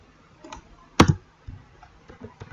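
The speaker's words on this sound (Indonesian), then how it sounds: "kita bisa ketik shortcut pada keyboard dengan mengetik Uni, kemudian Enter" Several sparse clicks of keys on a computer keyboard while entering a shortcut in 3D modelling software, including one sharper, louder keystroke amid lighter taps, close and quiet with no talk.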